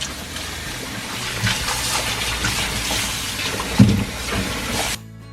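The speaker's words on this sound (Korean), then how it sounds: "그 다음 물을 두세 번 갈아가면서 깨끗하게 씻어주세요." Old cucumbers (nogak) being rinsed clean in a basin of water, with steady splashing and sloshing throughout, close and moderately loud, a brief louder splash near the end before it cuts off.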